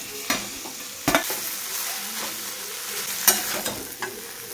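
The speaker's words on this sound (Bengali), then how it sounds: "সবজি দিয়ে ভাজা ভাজা ম্যাগি" Maggi noodles with vegetables stir-fry in a pan, a soft sizzle running underneath several sharp scraping strokes of a spatula at irregular intervals, with no talking.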